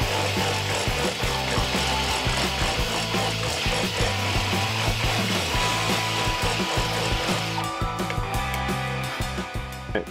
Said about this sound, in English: just go on ahead and gouge out a little bit more wood right here on the bottom side